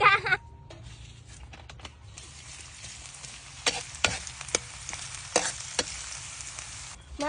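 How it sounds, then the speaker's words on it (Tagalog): Spaghetti sauce stirred and frying in a pan at home, a steady soft sizzle with scattered sharp clinks and scrapes of a utensil against the pan, fairly close. "Luto na tayo ng spaghetti sauce."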